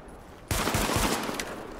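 Sudden burst of rapid gunfire in The Division shooter game, chewing through a piece of cover; after a brief quiet lead-in, loud dense shots erupt and continue steadily to the end.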